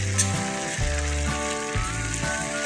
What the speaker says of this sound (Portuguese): tô fazendo molho aqui, refogando a carne moída